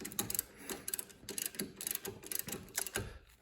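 A hand ratchet clicks in quick bursts while snugging the rear brake caliper bolts on a 2013 Infiniti JX35, a close, fast, light pawl chatter repeating in short runs with brief pauses.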